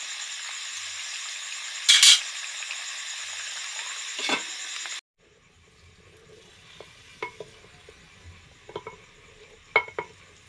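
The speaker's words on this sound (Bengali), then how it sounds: "ঝোল ফুটে গেছে, আর আলু অনেকটা সেদ্ধ হয়ে গেছে। মাছ দিয়ে দিলাম।" Mutton curry broth in a clay pot with potatoes and fish added, a bright sizzle and clatter at first, then a quieter bubbling simmer with scattered soft clinks and taps.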